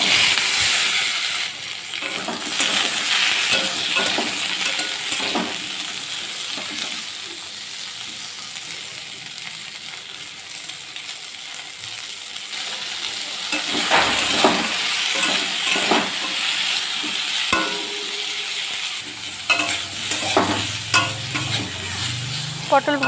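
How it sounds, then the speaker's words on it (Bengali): Pointed gourd pieces frying in mustard oil in a kadai after fish was fried in it, a loud, continuous sizzle with spatula stirring scrapes and occasional clatters of the pan, close and unaccompanied by speech. "এবারে ওই তেলের মধ্যে আমি পটলটা ভেজে নিচ্ছি।"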